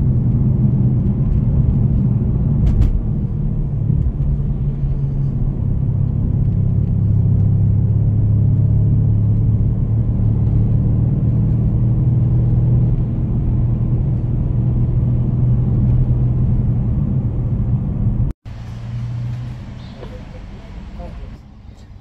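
A car drives along a winding road in Melbourne, a steady low engine rumble and road noise from inside the cabin, with voices talking over it and a brief cut near the end.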